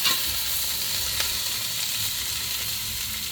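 Taro root frying adobo style in a pan, a continuous close hiss and sizzle with faint stirring, no voices.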